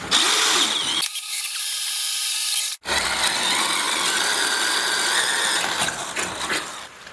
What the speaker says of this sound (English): now we know how to drill holes in metal